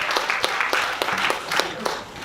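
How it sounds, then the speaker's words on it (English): An outdoor folk music festival crowd claps after a morning set, a dense burst of applause with a few sharper claps, fairly close and unbroken. "you can clap much louder than that"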